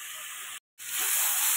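A spice mixture sizzles in a hot pan as water is added, giving a steady broadband hiss that breaks off for a moment and then returns louder and fuller.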